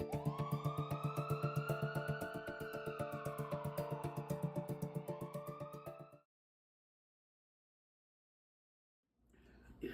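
A wailing ambulance siren sweeps up and down loudly and close for about six seconds, then cuts out to silence before a faint rustle returns at the end.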